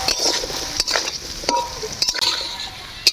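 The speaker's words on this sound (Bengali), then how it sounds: "গাজর দিয়ে না এলাও ভাজি নিব বেশ 3-4 মিনিট ধরে" Chopped carrots and beans stir-fry in a wok for fried rice, giving a close, continuous sizzle broken by a spatula scraping and clinking against the metal in short, irregular strokes.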